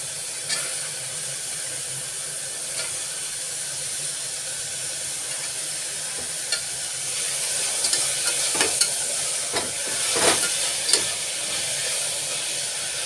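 Soaked peas frying in a pan give a steady, close hiss and sizzle throughout, with faint scraping stirs and a few brief louder crackles near the end.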